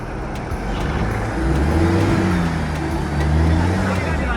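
A Mahindra Thar grinds up an off-road slope in first gear with four-low engaged, its engine holding a steady low drone that rises slightly under load, with a person talking over it.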